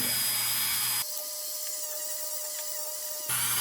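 A rotary tool buffs the paint on a Dietz #40 Traffic Gard lantern. A steady high whine carries most of the clip, with a brief quieter gap in the middle and no talk over it.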